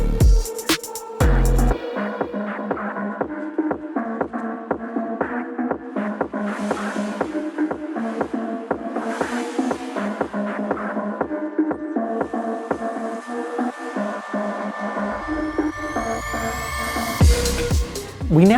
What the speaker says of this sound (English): have a listen to that portal.